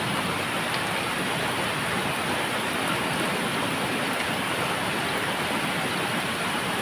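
Steady, dense rainfall in Taiwan hisses continuously with no pauses, a broad wash of patter close by and no voices.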